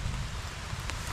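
Steady rain hisses as a dense, even wash of noise outdoors, with a brief sharper patter near the end.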